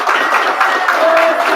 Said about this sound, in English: Please, an applause.